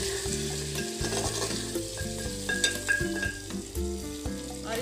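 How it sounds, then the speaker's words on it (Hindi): Turmeric, black pepper, cumin and ginger masala being stirred in a clay pot, a steady scraping and sizzling with rhythmic stirring strokes, close and fairly loud, no voices. "सारा मैं इसमें डाल दी हूँ। इसको थोड़ा सा मैं मिक्स कर लेती हूँ।"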